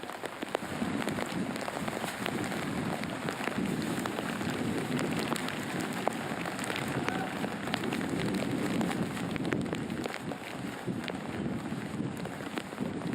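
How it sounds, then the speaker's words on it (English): Heavy rain pelts down on a golf course during the second round of a KLPGA women's championship, a dense, constant hiss of drops that stays even throughout with no voices. "She's able to reach despite the rain pelting down."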